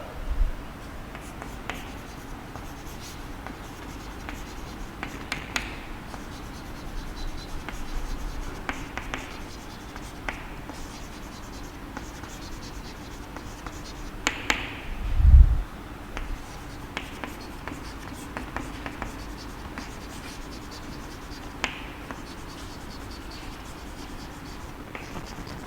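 Hand writing on a board during a sixth-grade maths lesson, quiet continuous scratchy strokes with small taps and one brief louder knock midway, close and steady.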